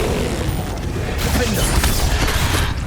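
Levioso levitation spell cast in Hogwarts Legacy, heard as a dense, loud magical whoosh and rumble with clanking mechanical textures, filling the moment without pause.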